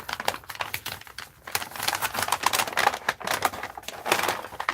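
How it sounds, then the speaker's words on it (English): A paper grocery sack, the kind used for meat and cold foods, is opened and crinkled up close, with a continuous dense rustling and crackling that swells and dips over several seconds. "You're going to hear some wrinkling."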